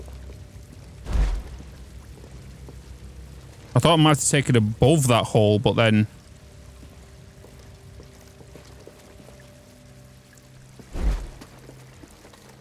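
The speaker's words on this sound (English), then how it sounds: "How do I stop the water?" Water pouring steadily in a tomb in Star Wars Jedi: Fallen Order, a constant low stream throughout, partly masked by a man's speech in the middle and a couple of heavy thuds.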